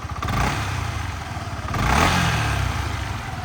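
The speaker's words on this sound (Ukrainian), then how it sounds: "по двигунчику гарно заводиться, працює, чистенько, тихенько" A 2016 Yamaha Majesty 155 S scooter engine runs close to the microphone with a steady, rhythmic low putter and mechanical clatter. The engine swells briefly in a slight rev midway, then settles back to a smooth idle.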